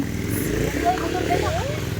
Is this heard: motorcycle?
yes